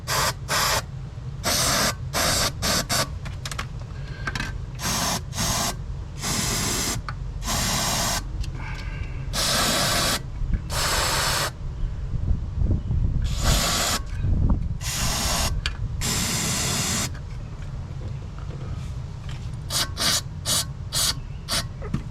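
Berryman B12 Chemtool cleaner sprayed onto a Jeep Wrangler engine in repeated loud hissing bursts of one to two seconds, broken by brief pauses, up close with no talk.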